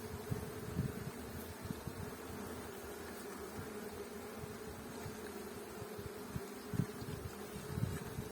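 Inside a honey bee hive, a faint steady colony hum carries a few brief, tonal pulses from a piping queen, heard quiet and close.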